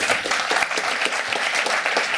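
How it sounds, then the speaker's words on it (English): A room of attendees at an open source software talk applauds a speaker, brisk, close clapping that stays energetic and even for a couple of seconds. "So a round of applause for Andrew."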